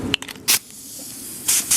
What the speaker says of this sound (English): All right, ready to start spraying.